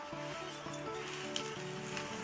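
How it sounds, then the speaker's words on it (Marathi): Sliced onion fries in hot oil for a homemade masala, a soft continuous sizzle under a steady tonal hum, close and fairly quiet, with no voices. "त्याच तेलामध्ये मी कांदा टाकलेला आहे"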